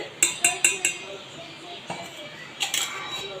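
Ground nungu (ice apple) pulp is transferred into a metal pan already used for boiling milk, giving a quick run of four bright metallic clinks, a short pause, then a couple more, close and crisp over a quiet kitchen.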